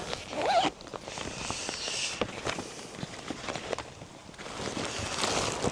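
An Oxford motorcycle cover of thick, shiny rubberized fabric comes out of its storage bag with quiet rustling, a zipper pulled and scattered soft handling taps, close and faint.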